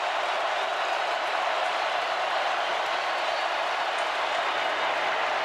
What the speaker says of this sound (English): And the crowd is wound right now on 3rd down and 7.